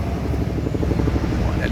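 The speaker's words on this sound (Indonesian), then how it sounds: "Helikopter." A helicopter at a bus terminal: rapid rhythmic rotor chopping with a low, throbbing drone, steady and fairly loud across the short moment, with no clear speech.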